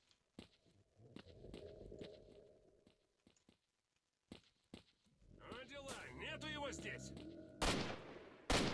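Gunfire in the video game S.T.A.L.K.E.R.: Shadow of Chernobyl: scattered sharp shots, some distant and some louder and closer, with voices talking amid the firing.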